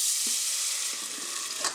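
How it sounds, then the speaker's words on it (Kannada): Boiled black chickpeas and elephant foot yam going into a reddened tempering in a curry pot, a steady bright sizzle with a couple of soft clinks and a brief louder splash of frying near the end, no talking. "ಈಗ ಬೇಯಿಸಿಟ್ಟ ಕಡಲೆ ಮತ್ತು ಸುವರ್ಣಗೆಡ್ಡೆಯನ್ನು ಆ ಪಾತ್ರೆಗೆ ಸಾರಿನ ಪಾತ್ರೆಗೆ ಹಾಕೊಳ್ತಾ ಇದ್ದೀನಿ"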